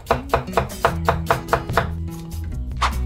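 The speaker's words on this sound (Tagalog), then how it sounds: "Una, hiwa lang tayo ng sibuyas," An onion chopped with a knife on a board, a series of crisp, evenly spaced chops, close and clear, slowing toward the end, with a low background hum.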